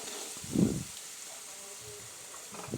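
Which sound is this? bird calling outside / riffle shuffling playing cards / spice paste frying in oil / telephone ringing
spice paste frying in oil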